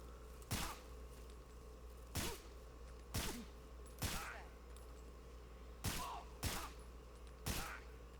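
Heavy gunfire in the Metal Gear Solid Delta: Snake Eater video game, with about seven loud, sharp shots fired at irregular intervals over a steady low background hum.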